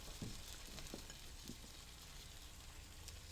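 Kale and garlic sautéing in olive oil in a pan make a quiet, even sizzle, with a few soft stirring clicks early on and nobody talking.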